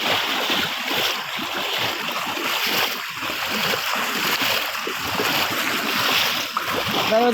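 Heavy floodwater from a night of intense rain rushes and churns steadily across the ground toward a river, a loud continuous roar with no break.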